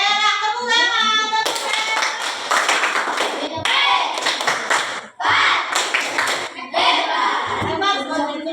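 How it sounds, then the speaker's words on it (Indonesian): Students in a classroom clap their hands together in a steady burst lasting several seconds, close by, with children's voices mixed in around the clapping. "Tepuk tangan."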